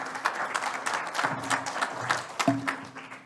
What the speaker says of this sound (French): Sous vos applaudissements, merci.